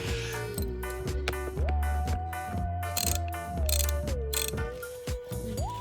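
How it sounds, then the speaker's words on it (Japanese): Ratchet clicking steadily as a Torx bolt is undone on a BMW Z4 E85 seat belt anchor, a close, rapid train of mechanical ticks in repeated strokes with no talk. "ここのところに25だったか20だったかのトルクスがあるので、これも外す必要があります。"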